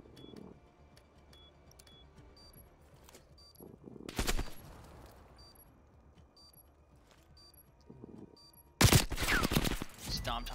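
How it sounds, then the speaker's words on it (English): Loud bursts of video game gunfire erupt twice, a rapid volley midway and another near the end, over a quiet electronic backdrop with faint ticking blips. "This wolf will go to plant, but then hears gunshots from Dom."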